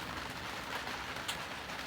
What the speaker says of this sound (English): and the rain has started.